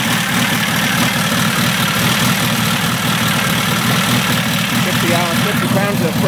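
A freshly built VW stroker engine idles just after its first start, holding a loud, steady, close rumble with no change in pace. A voice can be heard faintly over the engine.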